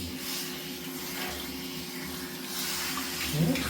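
Water sprays from a shower head onto a cat during a bath at home, a steady close hiss of running water that holds through the clip and rises slightly near the end.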